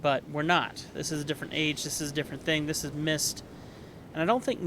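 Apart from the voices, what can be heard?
No everyday noises stand out.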